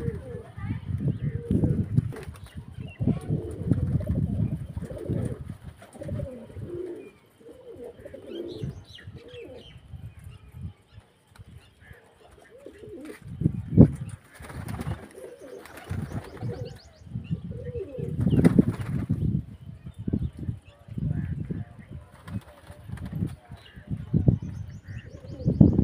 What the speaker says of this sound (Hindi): देखो कितना खूबसूरत है दो रंगा कबूतर